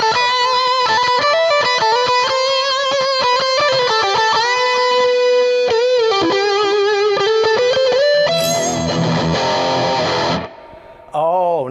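PRS SE Custom 24 electric guitar on its double-coil pickup, driven through a Tube Screamer overdrive pedal, plays loud sustained distorted notes and chords that end in a final strum and a brief last hit.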